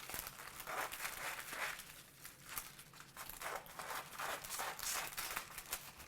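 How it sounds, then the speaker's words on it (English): Scissors snip through a sheet of parchment paper, cutting a heart shape for salmon en papillote; close, repeated crisp crinkling and rustling bursts in an irregular rhythm, with no voices. "you're going to cut your parchment"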